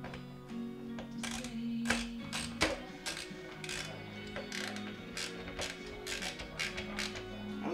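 Screws being tightened on a KitchenAid dishwasher rinse aid dispenser assembly and bracket make a close, steady run of quick ratcheting clicks and small mechanical taps, with a faint hum underneath.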